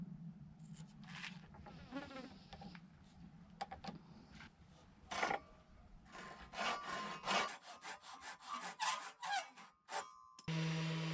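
A handsaw cuts a wooden trim piece to size in a barn conversion, giving bursts of rasping strokes separated by short pauses, fairly close and moderately loud over a low background hum.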